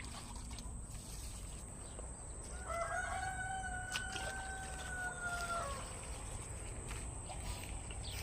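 Rooster crowing once in the distance at a backyard flock, a drawn-out call over a steady noisy outdoor background.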